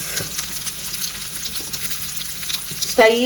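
Onions and curry leaves frying in hot oil in a pan, a steady close sizzle throughout with a brief voice cutting in at the end.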